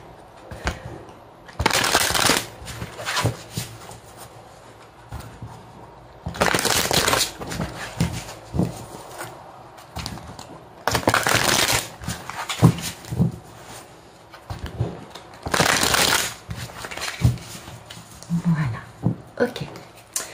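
Tarot cards being shuffled for a reading, in several bursts of crisp riffling and rustling separated by quieter pauses, with a voice occasionally speaking in between.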